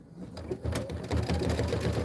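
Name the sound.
embroidery machine stitching out a Kimberbell design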